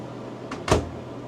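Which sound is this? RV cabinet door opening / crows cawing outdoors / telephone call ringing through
RV cabinet door opening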